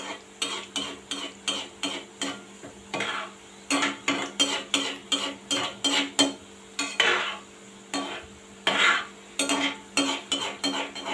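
Modak deep-frying in hot oil while a spoon stirs around the pan, steady bubbling sizzle broken by repeated quick scraping and clinking strokes in a fairly regular rhythm, close and with no voices.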